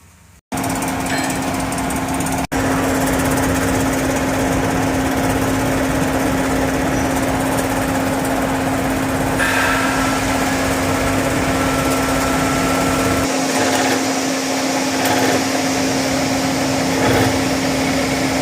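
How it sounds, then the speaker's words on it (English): Hydraulic press in a workshop straightening a bent loader bucket hitch lug, a loud, steady droning hum from the running power unit that continues unbroken, with a brief clunk near the start. "That's why we need to take it to the hydraulic press in the top workshop"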